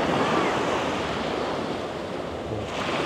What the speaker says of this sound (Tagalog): Medyo malakas lang talaga yung alon.